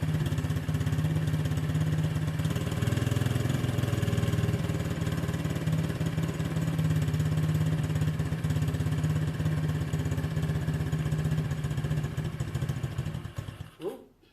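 An Orion RXB 125cc pit bike engine idles steadily and close by, a constant buzzing putter that holds for most of the time, then cuts off abruptly near the end.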